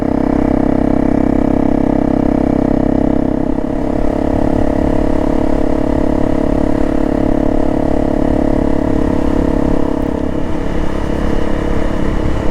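Steady, loud engine drone of a Honda CRF motorcycle cruising on a road, a continuous close hum with a slight shift in pitch partway through and no speech.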